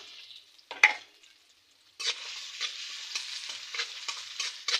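Mustard greens stirred in hot oil for a home lunch: a single sharp knock, a brief silence, then a steady close sizzle with rhythmic stirring scrapes, no voices.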